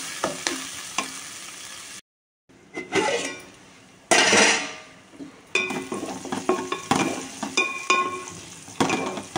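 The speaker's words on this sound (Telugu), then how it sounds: "ఉప్పు వేసేసి మగ్గబెట్టేసుకుందాం ఉల్లిపాయలు" Onions with salt fry and sizzle loudly in a pan while a utensil stirs and scrapes with clinking taps, the hiss dropping out briefly before surging back.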